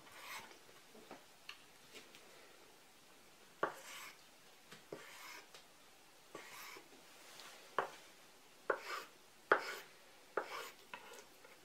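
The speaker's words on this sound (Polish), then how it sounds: "Warzywa pokroję na drobną kostkę." Knife chopping vegetables into small cubes for oxtail soup, a series of sharp, fairly close taps in irregular bursts, quiet overall with no talking.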